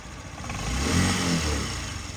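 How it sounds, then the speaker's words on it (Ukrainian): A Honda Tact AF75 four-stroke fuel-injected scooter engine runs quietly and steadily, with a low hum that swells slightly midway through, heard alone at close range. "Тихенька така робота двигунчика."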